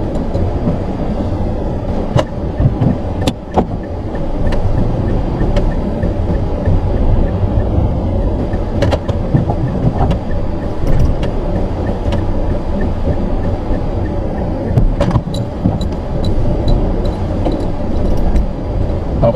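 Dense, steady engine and road rumble from a car performing a three-point turn, loud and close, with occasional sharp clicks and knocks scattered throughout and no talking.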